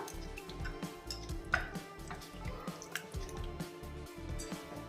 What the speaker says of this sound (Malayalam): നമുക്ക് കൈവച്ച് കട്ടയില്ലാതെ നല്ല രീതിയിൽ